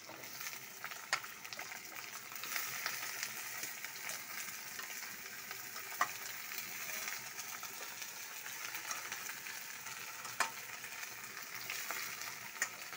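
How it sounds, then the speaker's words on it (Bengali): Taro stolons frying with browned onions in a pan produce a steady, close sizzle with occasional sharp clinks of a stirring spoon, and no voices. "পেঁয়াজগুলো ভেজে নিয়ে ভালো করে ভেজে নিয়ে তারপর লতি ডালা হবে।"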